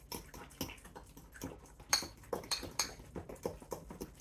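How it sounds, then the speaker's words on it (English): Utensil stirring lasagna ingredients in a dish, a series of close scraping clinks and taps in an uneven rhythm, moderately quiet with no talking. "We just gonna stir everything up together."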